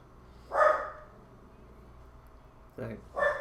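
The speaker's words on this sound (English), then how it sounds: "Sorry about the dogs." Dogs barking in a game, two sharp bark bursts with a pause between, moderately loud over a low background hum.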